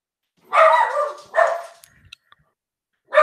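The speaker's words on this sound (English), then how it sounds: "that dog is so loud" A dog barks loudly and close by, two strong barks followed by a few small clicks and then another bark starting at the end, with near silence between them.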